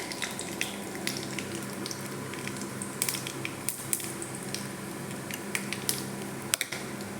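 Mustard seeds frying in hot oil in a heated kadai, a steady close sizzle with scattered sharp pops and crackles throughout.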